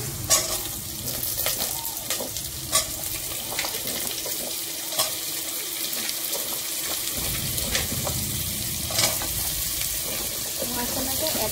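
Cut raw papaya (amita) frying in a pan for Assamese khar, a constant sizzle with repeated scrapes and clicks of stirring, while a voice talks over it at times.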